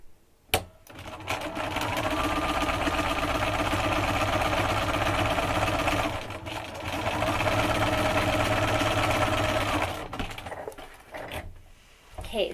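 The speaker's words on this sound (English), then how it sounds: "I'm just going to sew it right along that diagonal line again." A sewing machine stitches a quilt block along a diagonal line, running in two long steady whirring bursts separated by a brief slowdown, nearby and fairly loud.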